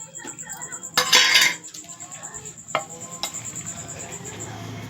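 Onions tipped into a pan with crushed garlic cloves and stirred, with a loud burst of clatter and sizzle near the start, then lighter scraping and utensil clinks against the pan, over a faint steady background hiss.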